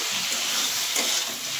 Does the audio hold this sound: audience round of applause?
no